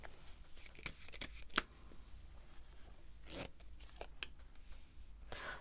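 Tarot cards are shuffled and drawn in a quiet room. Close, faint riffles and papery flicks come in short separate bursts with quiet gaps between them.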